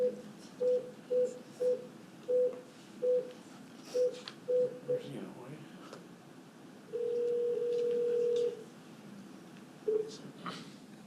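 Touch-tone dialing while a caller is conferenced into a board meeting phone line: a rapid series of short beeping tones, then a long sustained tone and one more short beep, with faint room noise behind.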